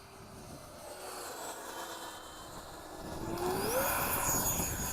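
F/A-18 jet taking off in fog during a touch and go in a flight simulator, a steady roaring engine drone that rises in pitch and grows louder toward the end, with no talking.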